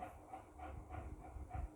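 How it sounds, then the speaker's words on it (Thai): A train rolls along in the mobile driving game Hill Climb Racing 2, giving off a faint, steady rhythmic clatter of repeated wheel thumps at a distance. "ข้างล่างมีรถไฟฮะ"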